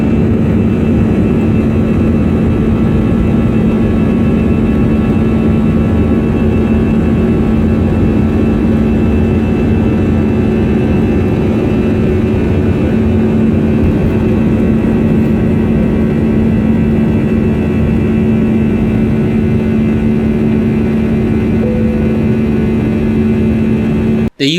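Steady, loud jet engine roar fills the cabin of a Cebu Pacific Airbus A321 airliner at departure, with a constant low hum and whir throughout, close and unbroken, with no voices.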